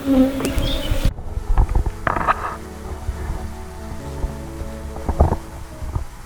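A small honey bee swarm in a hive box makes a close, loud, steady buzz. The hum runs throughout with some brief knocks and shuffling handling sounds.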